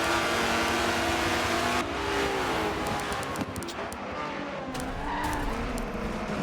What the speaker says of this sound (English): you can hear the cars kind of coming together there